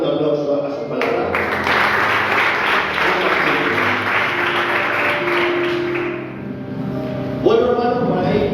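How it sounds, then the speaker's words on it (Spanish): A church congregation claps for over seven seconds in dense, steady applause during a sermon, fading out at the end as a voice resumes. "Doy un aplauso a su palabra."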